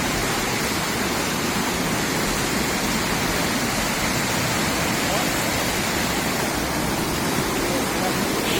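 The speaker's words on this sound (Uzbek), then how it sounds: "Sharqirab oqayotgan Shohimardon soyi." The Shohimardon mountain stream roars past, a loud, unbroken rush of churning water that stays steady and close throughout.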